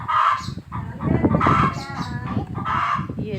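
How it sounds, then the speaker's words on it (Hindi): A hen that had been inside a clay tandoor oven squawks loudly in a village yard, repeated harsh bursts of clucking and crowing-like cries, close and continuous. "ये मुर्गी बहुत चीख रही है क्योंकि ये मुर्गी जो है तंदूर के अंदर थी"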